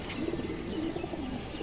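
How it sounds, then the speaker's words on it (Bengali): A female pigeon coos in low, soft, rolling calls that repeat steadily, close up and alone with no talking. "খুব সুন্দর একটা মাদি কবুতর"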